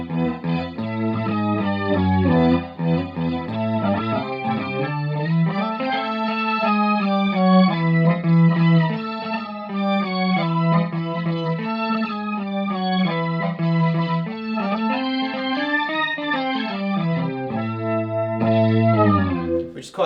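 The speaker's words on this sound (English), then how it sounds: "I'll just play like a little funky bass organ riff." A Mooer Mooergan organ simulator pedal turns a guitar into a funky bass-organ riff, with thick sustained organ-like chords and a low bass line that play continuously and loudly with chorus and slight grit, no talking.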